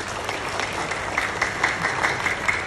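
Applause from the audience at a graduation ceremony, a continuous dense patter of clapping hands, moderately loud and even throughout, with no talk over it.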